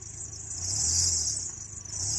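A started-up car at a towing auction backs out of a ditch behind its parking spot, its engine giving a quiet, steady low rumble that swells slightly mid-way, with no talking.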